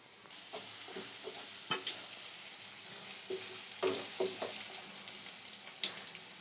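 Tomatoes softening in a pan for tomato chutney on a low gas flame, a steady soft sizzle with occasional stirring scrapes and light taps against the pan, fairly quiet and close, with no talking.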